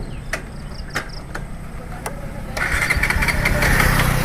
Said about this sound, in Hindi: दिखाते हैं आप लोग को सेल्फ मार के गाड़ी स्टार्ट हो रहा है कि नहीं हो रहा है